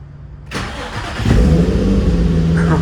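An Infiniti G35 engine cranks briefly and fires up, then settles into a loud, steady idle close by.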